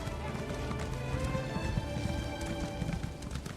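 A horse gallops in The Elder Scrolls Online, a steady rapid run of hoofbeats close by under game ambience, with a brief whinny.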